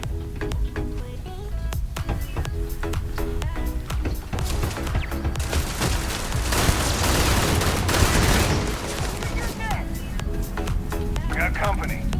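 Pirate Legend gun fired from the hip in Starfield, a run of sharp shots and bursts that thicken into a dense stretch of gunfire midway, over game sounds and music with a voice talking.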